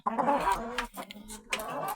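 Hens cluck in short repeated bursts nearby in a henhouse, two stretches of chatter separated by a brief pause.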